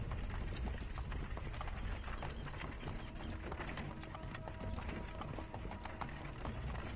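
Horse hooves clip-clop in the video game Assassin's Creed III, a steady run of hoofbeats carried over a dense, constant game soundscape, with faint voices in the mix.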